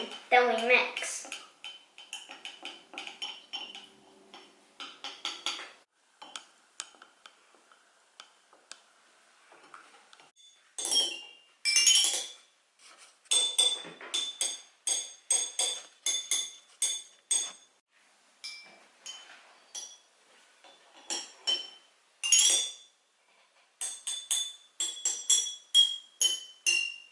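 A spoon stirs food coloring into water in glass cups, making rapid bright clinks and tinkling taps against the glass in short bursts with pauses between, close and fairly loud.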